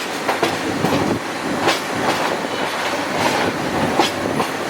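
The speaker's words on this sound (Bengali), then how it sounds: "2600 সিরিজের লোকোমোটিভের আওয়াজ" A Tista Express train hauled by a 2600 series locomotive runs on the track with loud, continuous rumbling and repeated clickety-clack beats close by, heard alone without voices.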